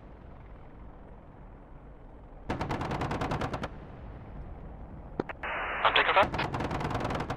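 Cannon bursts from an AH-64D Apache in the DCS World flight simulator: a loud rapid burst, a pause, then another burst with a radio-style tone, while a voice speaks over it.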